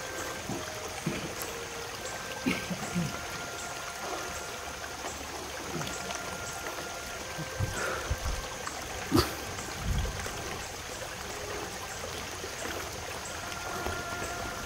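Creek water flows and trickles steadily nearby, with occasional splashes and knocks over a continuous outdoor wash. No one talks over it.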